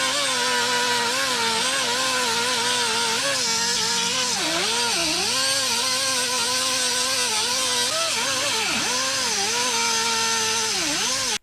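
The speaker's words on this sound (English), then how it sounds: "here we go again with the 90-degree air cutoff tool" A 90-degree pneumatic air cutoff tool slices through the rocker panel of a Mercury Sable, whining loudly and steadily the whole time, its pitch sagging and recovering repeatedly as the blade bites and the compressor strains.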